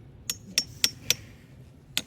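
A hammer taps a metal spile into a maple tree trunk: five sharp, ringing knocks in an uneven rhythm, four close together and the last after a pause, close and distinct over a quiet background.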